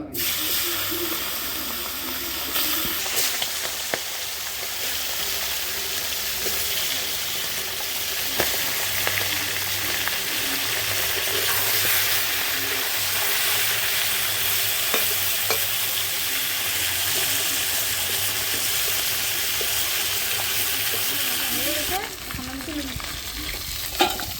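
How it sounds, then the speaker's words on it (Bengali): Steady, crackling sizzle of fish heads frying in hot oil, continuous and close, with occasional stirring scrapes and no voices. "এখন মাছের মাথাগুলো ভাজে নেব"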